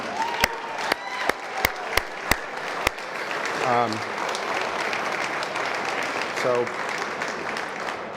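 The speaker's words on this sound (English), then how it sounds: "Let's give them a huge round of applause right now." An audience at a charity fundraiser speech gives a round of applause: a few sharp, separate claps at first, then a sustained wash of clapping with voices mixed in.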